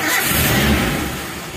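A Daihatsu car engine turns over and catches, settling into a steady mid-pitched running rumble that fades slightly toward the end, heard close with no talking.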